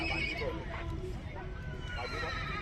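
A pure white horse at a horse show in Surat whinnies in short, fairly faint calls amid a crowd, with people talking throughout.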